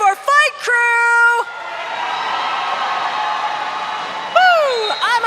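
Crowd cheering and whooping at a junior roller derby game, a sustained wash of voices with sharp whistle-like shrieks at the start and again near the end, fairly loud and close.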